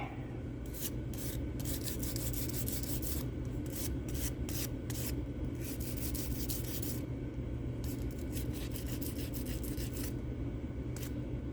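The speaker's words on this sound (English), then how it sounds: "It would sand much better if I waited till it got hard, because it is still soft." Steady scraping rasp of sandpaper working over a still-soft resin cast from a silicone mold, continuous and close throughout with brief pauses between strokes.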